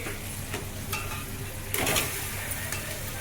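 Fish pieces frying in ginger paste and turmeric in a pan, a soft close sizzle broken by a few stirring scrapes and clinks, with one brief louder hissing flare.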